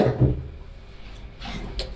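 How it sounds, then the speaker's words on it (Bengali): A person coughing in a hotel in Pattaya, Thailand, before breakfast: a close, loud cough burst at the start, then a couple of lighter coughs near the end. "অনেক কাশি হয়েছে।"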